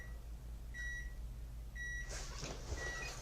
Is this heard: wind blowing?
no